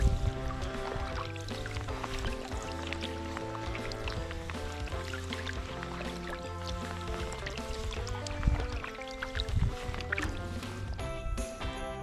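Paddle strokes splash and drip near a loaded kayak, with water sloshing and gurgling, underneath a droning tonal background.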